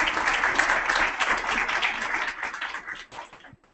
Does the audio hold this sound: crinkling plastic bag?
no